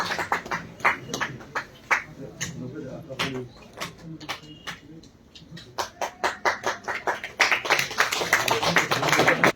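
Audience at a foundation day ceremony in Tagore Hall, Srinagar claps in scattered, uneven bursts that build into denser, louder applause, with talking underneath.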